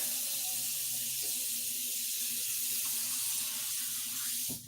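Steady water from a kitchen tap running into a cooking pan, a constant close splashing hiss that cuts off at the end, no voices.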